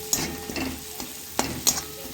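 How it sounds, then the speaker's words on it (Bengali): Potato and flour filling being stirred and fried in a pan, with a few soft scraping strokes of the spatula over a low background sizzle, close and fairly quiet. "কিছুটা ভাজার পর এটাকে কুচিয়ে নিলাম। কুচিয়ে নিয়ে আমি ভালো করে মিক্স করলাম"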